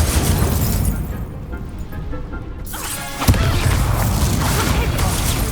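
An Incendio fire spell goes off in the Hogwarts Legacy video game, a loud crackling burst and boom followed by roaring game effects and background combat noise.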